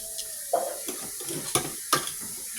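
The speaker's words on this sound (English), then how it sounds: "I'm just going to lay it down in the sauce." Chicken pieces laid into simmering sauce in a pan for chicken parmesan, giving soft sizzles and a few sharp scraping clinks of a utensil against the pan.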